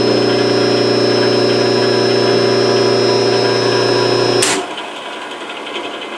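A rotary phase converter's idler motor spinning, a loud steady electric hum with a tonal whine that drops off abruptly as it shuts down, leaving a softer fading whir.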